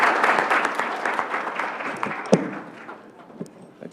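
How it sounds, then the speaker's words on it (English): An audience at a board of education business meeting applauds a student, a burst of clapping that starts full and gradually thins out, with a few isolated claps toward the end. "let's give him a round of applause"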